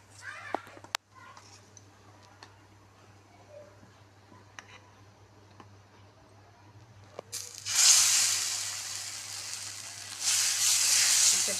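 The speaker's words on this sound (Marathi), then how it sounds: "इथे तवा गरम झालेला आहे आणि आता आपल्याला हे बॅटर यावर टाकायचं आहे." Upvas dosa batter hits a hot tawa griddle after a mostly quiet stretch, bursting into a loud, close hiss and sizzle that surges twice near the end.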